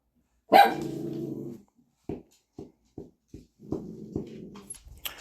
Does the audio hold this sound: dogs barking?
yes